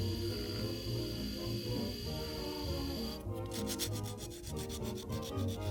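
Sand cloth rubbed by hand across a stainless steel edge, a steady close abrasive scrubbing that turns into a faster rhythmic back-and-forth in the second half, with no talking.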